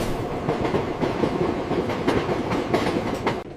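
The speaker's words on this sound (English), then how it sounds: "The train began moving." A train pulling away, giving a steady, close rumble of rail clatter with rhythmic clickety-clack beats running continuously, and no voices.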